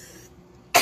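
A single sharp cough bursts out at the very end after a near-silent pause, loud and close.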